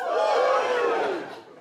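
A comedy club audience lets out a loud, unified cheer that swells at once, holds for about a second and then fades.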